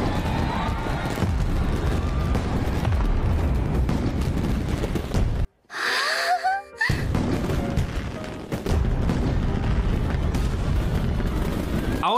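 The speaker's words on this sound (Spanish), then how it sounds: "Ya empezaron los balazos." Dense, continuous bursts of gunfire and explosions fill the clip, broken by a brief near-silent gap with a few whistling effects before the barrage resumes.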